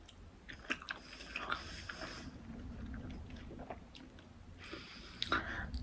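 Someone eating pasta with cheese: close, moist chewing and biting with a few sharper crunchy bites, steady and fairly quiet, with no talk.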